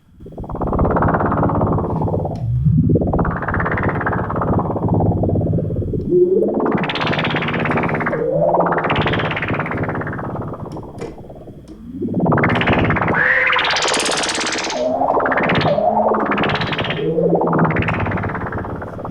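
A heavy, buzzy Dreadbox Nymphes synthesizer with its sub-oscillator volume raised plays a run of swooping notes with thick low-end rumble and distorted, sweeping filter tones, loud and unbroken.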